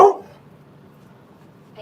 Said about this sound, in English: I can't read when you bark.